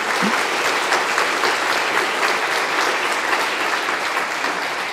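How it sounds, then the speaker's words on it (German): Audience at a FOSSGIS 2024 open-data conference talk claps in thanks to a speaker, a steady, even roar of many hands sustained without pause and only slowly easing. "Dein Applaus."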